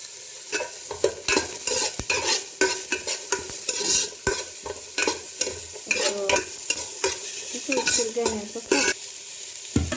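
Onions fry for a Mangalore-style chicken sukka, stirred briskly in the pan with repeated close scraping and clattering strokes over a constant sizzle.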